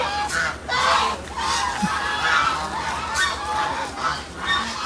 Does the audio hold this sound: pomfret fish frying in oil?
no